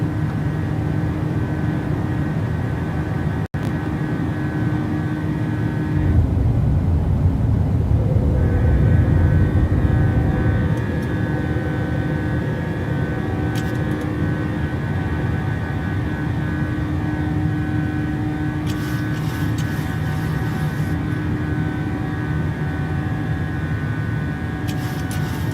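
An airliner's engines roar steadily during takeoff climb in Microsoft Flight Simulator 2020, a loud continuous drone with a brief surge of rushing air partway through and a sharp click early on.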